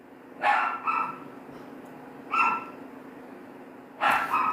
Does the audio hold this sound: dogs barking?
yes